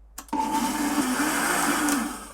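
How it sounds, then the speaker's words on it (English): A countertop blender kicks on after a click and a brief clatter, whirring steadily and loudly as it purees whole tomatoes, the motor pitch wavering slightly as the contents churn. "we just want tomato puree, so I'm gonna just put this in a blender"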